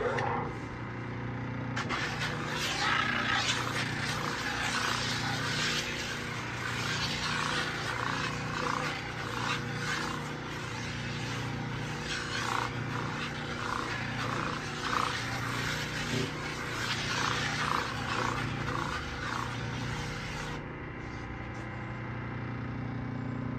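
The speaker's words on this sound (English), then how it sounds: "edge sanding a board with the stock Grizzly" A stock Grizzly edge sander grinds along a board edge, a steady loud machine drone with a continuous abrasive rasp that starts and stops abruptly, running alone without talk.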